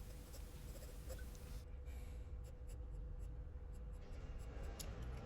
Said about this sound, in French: donc je commence à dessiner le contour des cheveux